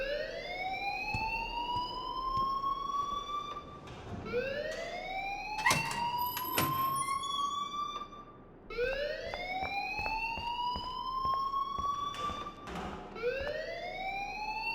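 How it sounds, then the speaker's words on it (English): Alarm in the video game Life is Strange, a loud electronic siren with rising sweeps repeating about every four seconds, accompanied by sharp clicks and thuds. "please turn off that alarm since that's your job"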